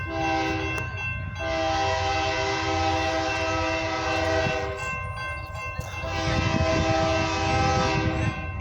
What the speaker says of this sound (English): And we have a train coming.